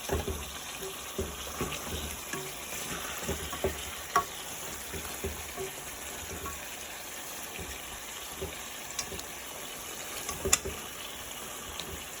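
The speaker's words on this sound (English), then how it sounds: "Let it get nice and brown and fried up." Chicken pieces fry in a pan while browning for brown stew chicken, giving a steady dense sizzle with scattered pops and crackles throughout, close and constant with no talking.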